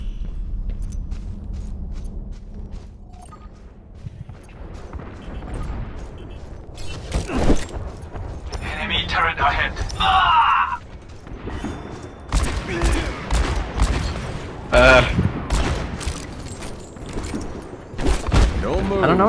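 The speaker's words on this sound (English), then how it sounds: "I think that's like a little stun grenade" A stun grenade going off during an Overwatch match, heard among a busy run of gunfire bursts and impacts while players talk excitedly over the action.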